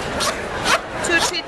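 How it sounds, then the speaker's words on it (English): A rasp tool dragged down over paper several times, giving a series of broad, close scraping strokes with short pauses between them. "I'm moving forward to the rasp tool, and it's only paper, so you have fun with it, play with it, drag it down 2 or 3 times down like this"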